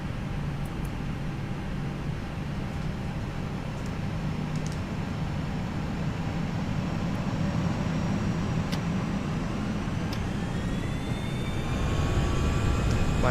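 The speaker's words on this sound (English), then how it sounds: "Lufthansa 978 is taking off runway 18" A Lufthansa airliner takes off from runway 18 at Frankfurt, heard from on board as a loud, constant engine roar that builds, with rising turbine whines climbing toward the end.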